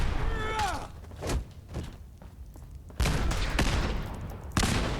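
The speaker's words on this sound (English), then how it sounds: "Someone's throwing grenades." Grenade explosions and gunfire in Fallout 4 come as heavy thumping blasts and bursts of shots, several loud hits spread unevenly over a few seconds, with brief synthetic whistling tones early on.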